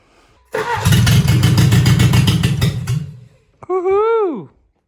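Mercedes W115 car engine cranking and catching, a rough loud run for a few seconds that cuts out, followed by a short rising-and-falling whine.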